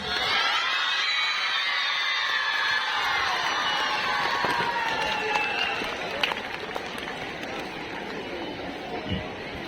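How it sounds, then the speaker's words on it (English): Crowd cheering and shouting at a children's day event, celebrating an under-17 boys' cricket team placed second; a dense, sustained roar of young voices with some clapping, loud and continuous throughout with a few sharper bursts later. "Give a big round of applause for our boys."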